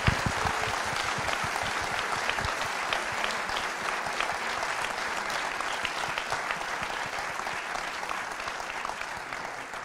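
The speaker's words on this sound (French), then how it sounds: "applaudissez-vous, mesdames et messieurs, qui êtes présents ce soir" Sustained applause from a live audience at a public NBA-themed show in Paris's Arlequin venue, dense and steady for the full stretch with no break.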